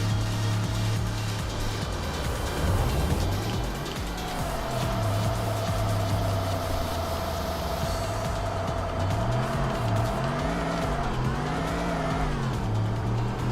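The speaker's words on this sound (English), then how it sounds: "And that exhaust, yes, we sound like a proper V6 now." A V6 car's exhaust in the Tokyo Xtreme Racer 3 video game drones steadily and loudly throughout, its pitch rising and falling with revs as gears change, with no talking over it.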